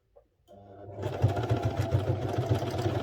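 A sewing machine runs a straight-line seam on a men's Senator outfit: after a brief click it spins up and settles into a steady, fast, rhythmic motor hum and needle chatter, close and fairly loud.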